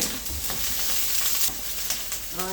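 Onions sizzle in a hot pan for breakfast sandwiches, a steady close crackling hiss with a few stirring scrapes and clicks.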